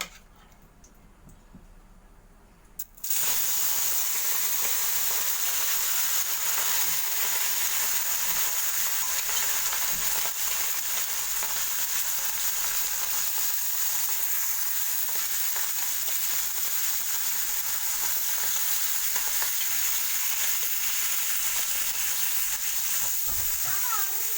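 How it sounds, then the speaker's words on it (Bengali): Bata fish fry in hot oil in a wok: after a few quiet seconds a loud, continuous hiss and crackle starts abruptly and carries on steadily, close up. "মাছগুলোকে আমি হালকা ভাজা দিয়ে নেব"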